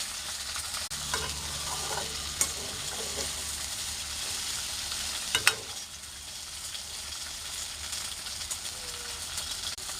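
Drumstick pieces stir-fried with potato and chopped tomato give a steady, close sizzle with a soft hiss of steam, broken by a few sharp clicks from the spatula and no talk.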